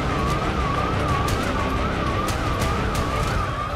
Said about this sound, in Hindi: अचानक पूरे इलाके में सायरन गूंजने लगे।